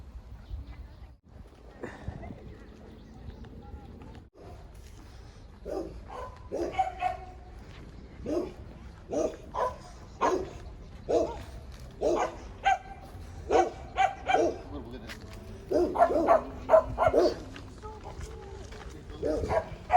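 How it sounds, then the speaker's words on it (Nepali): A dog barks repeatedly in short, irregular bursts at moderate distance, while people talk underneath, on a hiking trail near Tai Lam Chung Reservoir, Hong Kong. "कुकुर पनि भुकिरहेको छ।"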